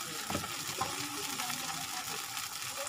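Uttapam fries in a little oil on a hot pan over a medium flame, giving a soft, steady sizzle that stays close and fairly quiet with no talk.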